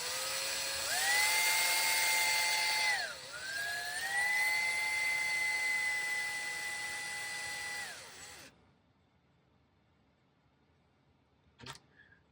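A small high-speed rotary drill grinds into a cabochon stone and its plastic backing. The steady whine dips and recovers once, runs close and loud for about eight seconds, then stops, followed by near silence and a brief click.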